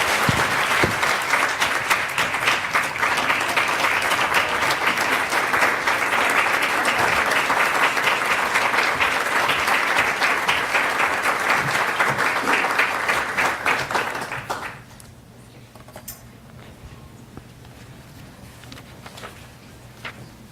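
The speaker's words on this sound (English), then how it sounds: "Please give her a round of applause" An audience at a diplomatic conference bursts into loud, sustained applause for about fourteen seconds before it drops away abruptly into a quiet room with low murmuring.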